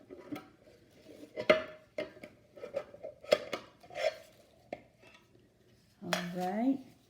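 Wood stain being stirred in a metal can, with a series of irregular clinks and scrapes of the stirrer against the sides, then a short sustained scraping rub near the end.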